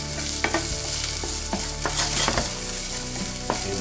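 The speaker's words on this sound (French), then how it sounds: "on fait revenir ça et on va tout de suite y ajouter l'oignon vert" Green onion stir-frying over medium heat in a pan, a steady close sizzle broken by regular scrapes and taps of the stirring utensil, with no voices.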